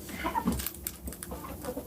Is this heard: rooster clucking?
yes